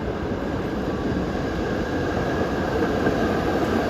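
Historic Pacific Electric trolley streetcar on San Francisco's Muni F Line near Market Street, rolling past as a steady, loud rumble of wheels and motors with no break over the whole stretch.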